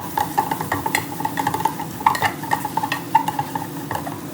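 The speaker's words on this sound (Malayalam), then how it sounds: "നന്നായി ഒന്ന് ഇളക്കി മിക്സ് ചെയ്യാം" A spoon stirs Kashmiri chilli powder and coriander powder into a curry in a pan, giving steady scraping and clinking strokes with a light sizzle, close and alone.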